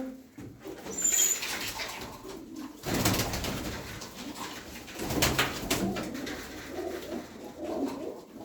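Pigeons coo softly in low, repeated throaty calls, with a few louder rustling bursts in between, like wings flapping nearby.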